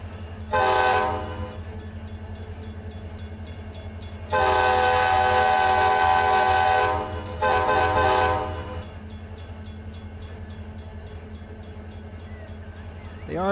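A locomotive whistle sounds at a whistle board in the Run 8 train simulator, heard as two long loud blasts and a shorter third over a steady diesel rumble and rolling train noise.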